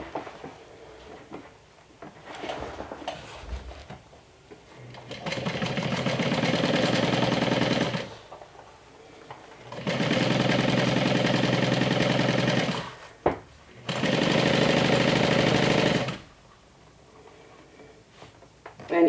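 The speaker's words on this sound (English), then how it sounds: "we're going to stitch with a 1/2 inch seam allowance at the top of contrast B piece" A sewing machine stitches a half-inch seam across the top of a tote bag panel in three separate runs of steady motor whirring, separated by quiet pauses with fabric handling.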